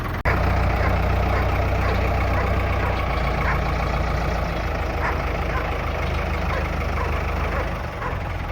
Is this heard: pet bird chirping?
no